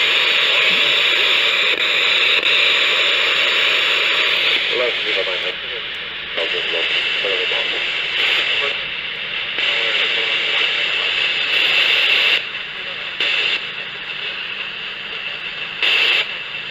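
A radio receiver with its squelch open hisses with loud, steady static that drops out and returns in short breaks.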